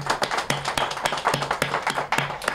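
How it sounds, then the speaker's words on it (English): A small audience at a press conference outside a COVID-19 vaccination site applauds in sparse, distinct claps, loud and close, with a few individual hands standing out. "Let's give her a round of applause, please."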